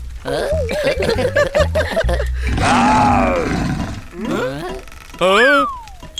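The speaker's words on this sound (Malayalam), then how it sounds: "അയ്യോ അത് സിംഹത്തിന്റെ ഒച്ചയാണ്." A loud, rumbling roar rises and swells for a couple of seconds, with harmonic voiced sounds and short growls around it, like a lion roaring up close.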